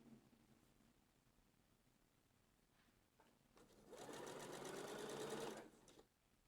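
A sewing machine stitches bias binding around a neckline, running in one steady, close burst of a couple of seconds after a quieter stretch of low room noise.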